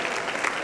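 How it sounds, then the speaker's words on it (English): Audience at a charity fundraising event clapping for volunteers, a brief burst of dense, even applause from a crowd. "and a round of applause for all"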